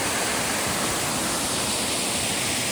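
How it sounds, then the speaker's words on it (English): Waterfall on a frozen ridge in freezing, gusty winter conditions, a loud, steady, unbroken rush of falling water heard close with no other sounds. "Nice waterfall."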